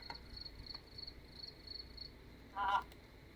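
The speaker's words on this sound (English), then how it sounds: "You hear the sound of crickets chirping and other various bugs" Faint, high chirping of crickets and other bugs in a quiet outdoor morning setting, repeating in soft pulses, with a short louder sound near the end.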